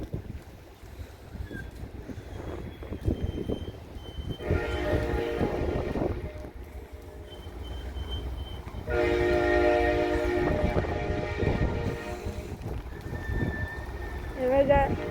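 California Zephyr passenger train rolling past nearby, a steady rumble with loud swells of rail noise and wheel squeal, heard with some talk in the background.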